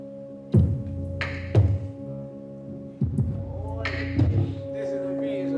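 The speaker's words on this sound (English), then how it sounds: "So if we get a kind of drum machine beat rolling now." A drum machine beat rolls in a home music-making session, with punchy low kick-like thumps landing roughly every second and a half, a steady low tonal hum underneath, and brighter hits layered over some beats.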